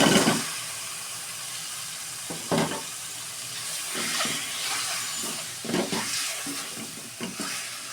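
Boiled eggs fry in hot spiced oil with a constant sizzling hiss, broken by several scraping stirs of a spoon in the pan.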